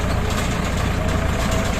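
Kubota L5018SP tractors rolling in a four-machine convoy through an oil palm plantation in the rain, a loud steady diesel engine drone close by, unbroken for under two seconds with no voices.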